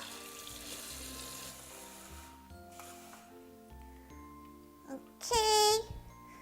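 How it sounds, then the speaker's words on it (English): A kitchen tap runs warm water into a container while making focaccia. The water hisses steadily under background music, swelling into a louder, brief gush near the end. "Okay, let's get some warm water."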